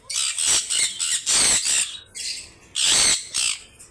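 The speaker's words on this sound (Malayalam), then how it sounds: "ലവ് ബേർഡ്സ് ഭയങ്കര സൗണ്ട് ഉണ്ടാക്കുന്നിരുന്നുണ്ട്." Lovebirds squawking loudly among a group of birds, shrill harsh calls coming in repeated close bursts with brief pauses between them.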